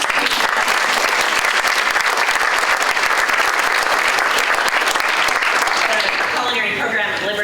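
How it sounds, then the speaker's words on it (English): An audience at a school district summit gives a round of applause, dense steady clapping that holds loud and even for several seconds before thinning slightly at the end. "we can give them a round of applause in absentia."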